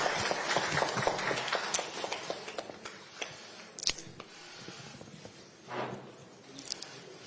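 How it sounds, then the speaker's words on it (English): Audience applause at a ceremony where Kenya and Ghana sign deals, loud scattered clapping at first that thins out into sparse, fading claps, heard up close with no voices. "Let's give them a round of applause"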